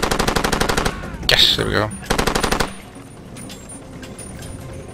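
Rapid automatic gunfire from the video game Far Cry 2 in a jungle setting, two loud bursts of fast repeated shots with a sharp impact between them, then fading to quieter ambience while a voice speaks briefly.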